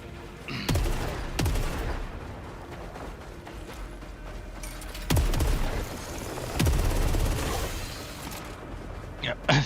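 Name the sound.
Eruptor hand cannon firing 3-round bursts, from a video game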